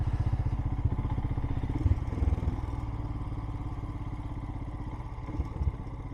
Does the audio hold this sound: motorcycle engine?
yes